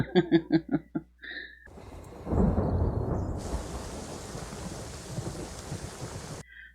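Rain and thunder in a Game of Thrones scene: a loud rumbling thunderclap over steady heavy rainfall that continues for several seconds, preceded by a brief chuckling voice.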